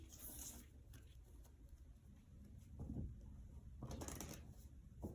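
Tarot cards are shuffled and handled, giving soft, faint papery riffles and slides in short bursts against a quiet background.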